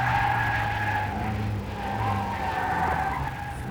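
A 2001 Rover Mini slides through a sequence of bends, with continuous tyre scrub and skidding over a steady engine drone, heard from inside the car and without speech.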